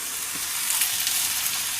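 Burger meat frying in a pan with mushrooms, a short burst of bright, hissing sizzle, close and steady, with no talk.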